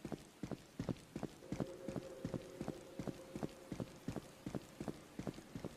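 Footsteps in the Roblox horror game Mimic tread at a steady pace, faint and distant, with a hard clip-clop quality.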